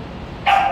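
One sharp, close bark from an 8-year-old male dog at an animal shelter, a brief loud yip cutting through quiet background noise.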